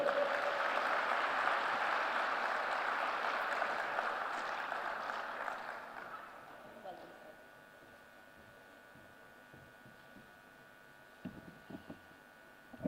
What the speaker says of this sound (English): With your applause, let's welcome on stage Mr. Simajit Singh